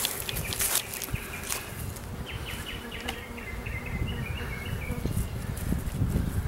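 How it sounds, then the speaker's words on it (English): A massive honey bee swarm buzzes continuously and densely at close range, with the steady insect drone filling the whole stretch alongside faint footsteps and handling noises. "That's how you make a new beehive with the swarm."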